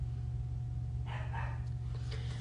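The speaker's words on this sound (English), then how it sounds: "Dog's going crazy." An excited dog gives a few faint, distant barks in short bursts over a steady low hum, with no one speaking.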